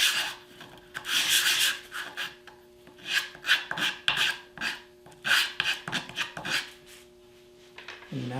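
Repeated hand sanding strokes on wood segments for a 24-segment trapezoid wedge bowl, a rhythmic series of close, scratchy rasps in bursts with short pauses, alone without talk.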